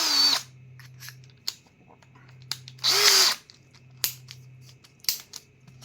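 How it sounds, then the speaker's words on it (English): A power drill whirs in two short, loud bursts with a rising pitch, drilling guitar neck screw holes, separated by quiet pauses and faint clicks and handling noise. "So now enter the drill bit, the same size as the screw."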